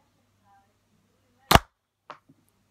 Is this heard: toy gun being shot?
yes